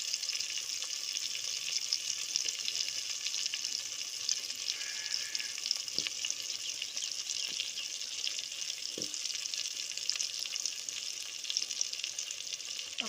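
Oil sizzles steadily in a pan while stuffed eggplants are added and fry, giving a continuous close hiss with a couple of soft stirring knocks.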